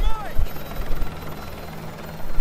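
A military helicopter in the game Modern Warfare 2 thuds with a low, pulsing rotor beat under the scene, with a brief whooshing sweep near the start.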